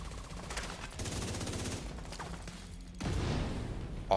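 Gunfire crackles in The Division 2 video game during a Library of Congress mission, rapid bursts of shots and mechanical clatter repeating at moderate volume, with no talk over it.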